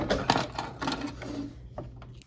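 A home sewing machine runs in short bursts while stitching a quarter-inch quilt seam, giving a close mechanical whirring with brief pauses and small clicks.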